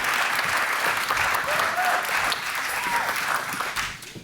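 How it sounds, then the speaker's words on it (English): A hall full of people applauding at an awards ceremony, steady dense clapping from a sizable crowd that holds strong throughout and begins tapering off near the end. "Let's have another round of applause."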